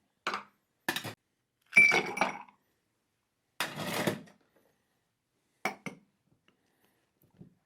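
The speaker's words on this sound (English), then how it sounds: "Well, let's put some ice in." Ice cubes clatter into a cocktail shaker in six separate bursts with quiet gaps between them, close and crisp, some brief rattles and some longer scoops.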